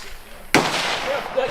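A single sharp AR-15 rifle shot cracks at an outdoor shooting range, a loud close bang followed by a short fading echo.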